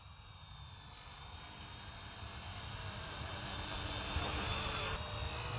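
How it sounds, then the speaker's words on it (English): Eachine E110 spy drone in flight, a steady broadband whir with a high-pitched motor whine that swells slightly louder as it comes closer, with no talking. "Hey, it's the first time flying a drone."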